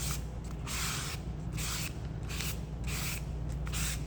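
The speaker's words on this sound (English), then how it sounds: "just going over thin coat of gesso. Doesn't have to be thick." A brush lays a thin coat of gesso across a journal card, making soft, close, rhythmic swishing strokes that repeat about eight times with no talking.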